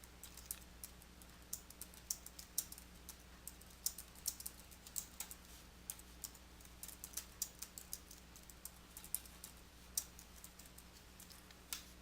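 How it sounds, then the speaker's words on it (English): Close, quiet typing on a computer keyboard, with irregular clicks and keystroke taps running steadily throughout and no talking. "type the text using your keyboard."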